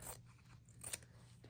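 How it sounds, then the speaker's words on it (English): Scissors snip through a strip of scrap fabric in a quiet craft setting, a few soft, close crunching cuts with no talking. "I'm just going to cut a little strip."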